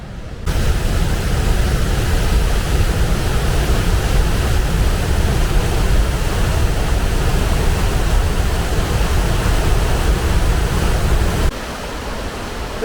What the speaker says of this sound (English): This waterfall here is called Waterfalls